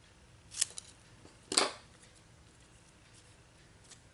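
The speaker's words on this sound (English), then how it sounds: "I think I'm going to cut this off just a tad more." Scissors snipping card paper during card making, two or three short, sharp, close cuts separated by quiet pauses.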